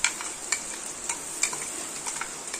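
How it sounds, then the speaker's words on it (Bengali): Ginger, garlic and chili paste sautéed with fried onions for biryani, a bright hissing sizzle broken by a few quick spoon scrapes and taps, close up. "এটাকে দিয়ে ভালো করে আবার কষাবো"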